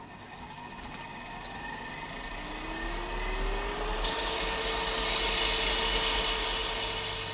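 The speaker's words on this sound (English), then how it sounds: "I'm just going to sand the foot and retouch up this area with some sandpaper as well" Sandpaper rubs against the foot of a turned olive ash bowl, a steady close rasping friction that grows slightly louder and brighter partway through.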